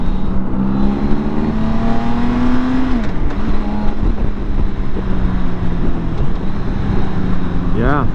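A 2021 BMW K 1600 Grand America touring motorcycle's engine drones steadily while riding, a smooth continuous hum with shifting pitch under constant wind rush, with a rider's voice talking over it.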